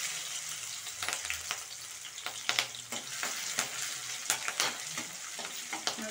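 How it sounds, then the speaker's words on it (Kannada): Green chillies, garlic and ginger frying in hot oil, with a continuous bright sizzle broken by light spoon taps and scrapes, close and moderately quiet, with no talking. "ಎಣ್ಣೆ ಇವಾಗ ಹಾಕೊಳ್ಳೋಣ, ಎಣ್ಣೆ ಕಾದಿದೆ."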